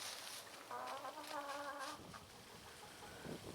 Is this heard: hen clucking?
yes